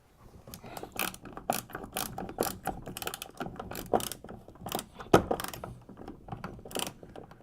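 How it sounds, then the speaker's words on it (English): A 3/8 inch wrench tightening nuts inside the plastic hull of a Hobie Outback kayak, irregular ratcheting clicks and hollow knocks that echo within the hull, with one sharper clunk midway. "I'll get the 3/8 inch wrench inside of the hull of the kayak and hold those nuts in place and then tighten it up"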